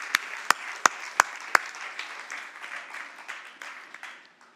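A church congregation at a worship service claps, starting with a few sharp separate claps that quickly blend into a softer, spread-out round of applause, which fades gradually toward the end.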